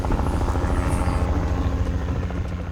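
A helicopter arriving to load sacks of mineral at a remote Amazon mining site gives a loud, close, continuous rotor throb with a steady rumble that fills the whole moment.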